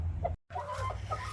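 A broody, puffed-up hen gives soft, close clucks in a short burst, with a brief silent gap between them.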